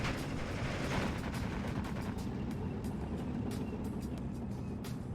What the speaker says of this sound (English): IS-2 moving in over here